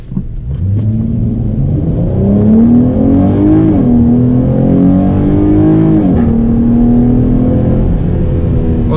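A 2017 Dodge Challenger with an aFe Momentum GT cold air intake accelerating hard from a launch with traction control on, its loud engine climbing through rising pitch sweeps with two gear changes, close and steady throughout.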